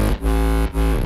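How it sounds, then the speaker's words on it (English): A frequency shifter with distortion and sharp delay produces buzzy, metallic-overtoned tones in two short sustained pulses separated by a quick break, with no voices. "So that's a frequency shifter that we threw on, added some distortion, some delay, and like really sharp delay"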